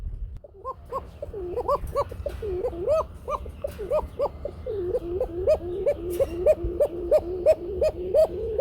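A male Rajgulla pigeon at a pigeon market coos in a steady run of repeated rising calls, close and fairly loud over low background noise.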